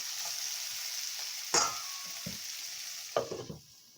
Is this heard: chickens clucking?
no